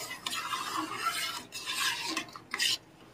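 Rice with cashews and raisins being stirred into bhoger khichuri in a pot, a continuous close scraping and rubbing with short pauses and a sharper clink of the utensil near the end.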